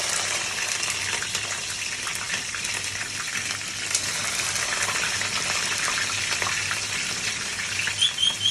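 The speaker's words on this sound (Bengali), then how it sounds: "আমি তেল গরম করে দিছি, প্রথমে আমি পেঁয়াজ দিয়ে দেব।" Sliced onions sizzle in heated oil in a pan, a bright, continuous frying hiss with a few crackles near the end and no voices.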